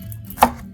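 A sharp knife dicing an onion for a quick and easy curry, heard as a single crisp chop against the board amid a quiet kitchen background.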